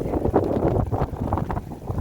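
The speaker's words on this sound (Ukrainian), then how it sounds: "От навіть вітер, бачите, здуває" Cold wind buffeting the microphone continuously outdoors in the Netherlands, a loud rumbling roar with gusty fluctuations throughout and no one speaking.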